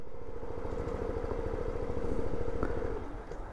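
The engine of a Daytona ADV scooter idles with a steady, close mechanical chug, then cuts out near the end under its automatic start-stop feature, leaving a quieter fading tail.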